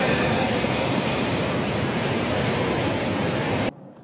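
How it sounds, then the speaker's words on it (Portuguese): Floodwater rushes down a street during heavy rain, a loud, dense, steady roar of torrent and spray that stops abruptly near the end. "Olha, veja quanta água vem descendo"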